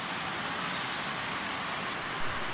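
Rain falls outside on a wet day while binignit is being cooked, a steady, even hiss of rainfall filling the whole stretch with no one speaking.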